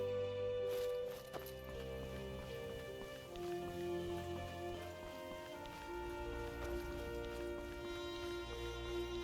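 Horse hooves clip-clop steadily in Skyrim, a continuous walking rhythm of close hoof falls layered over soft ambient game music, with no voices.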